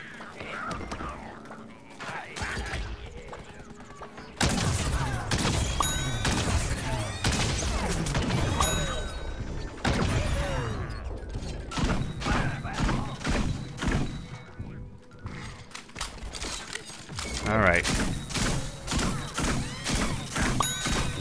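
Rapid bursts of cartoonish gunfire in the Plants vs. Zombies: Garden Warfare 2 video game, dense clustered shots in several volleys with thuds between, while a player talks quietly.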